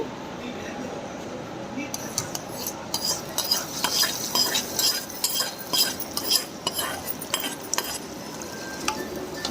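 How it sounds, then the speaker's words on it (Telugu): A spoon stirs fried tempering into thick whipped yogurt with onions and coriander for dahi vada, giving repeated clinks and soft wet scraping against the bowl in an uneven rhythm, close and moderately loud. "దోరగా వేగిన పోపు వేసి ఇలా మంచిగా మిక్స్ చేయాలండి"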